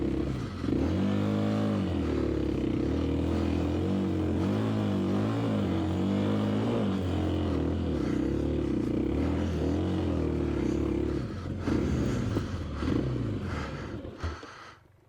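A KLX 300 dual sport motorcycle revs hard and steadily up a rocky trail climb, its engine loud and close throughout with rising and falling throttle, plus clatter and scrapes from the tires near the end.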